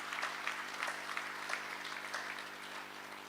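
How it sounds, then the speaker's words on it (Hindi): Faint, soft applause from a seated audience at a spiritual lecture gathering in Ghaziabad, a steady patter of many hands heard at a distance over a low background hum. "सबसे पहले तो आप सभी अपने लिए ही जोरदार तालियों के साथ अपना ही स्वागत करेंगे"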